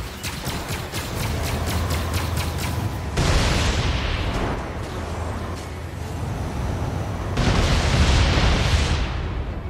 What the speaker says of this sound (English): Lock missile. Locking onto target. Fire missile. Missile launch.